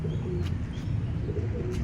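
A caught pigeon coos in soft, low, repeated calls close by, with a few faint high chirps above a steady background hum.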